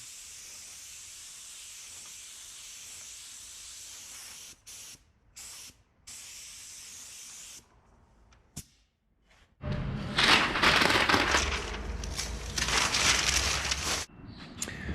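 An automotive paint spray gun lays coats on a car panel, Mustang body work, with a steady close hiss that cuts out in short bursts, goes quiet, then returns as a louder, fuller spraying roar, without voices.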